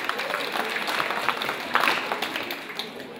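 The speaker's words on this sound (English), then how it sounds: "You can clap for her also." Students and guests clap for an official at a patriotism pass-out day at Our Lady of Africa secondary school in Mukono, a close, sustained wash of applause with scattered sharper claps over about three seconds.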